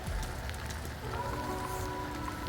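Steady rain falling outdoors on a cold, frosty day in a garden of fruit trees and sugar cane, a continuous soft hiss of drops, moderately quiet with no voices.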